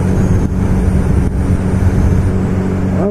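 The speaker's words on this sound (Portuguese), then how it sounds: "esses carros cruzando tudo quanto é lado." Dense road traffic heard from a Honda CB1000R motorcycle riding among cars crossing from all sides: a loud, steady low engine and road rumble with wind noise and the drone of surrounding vehicles.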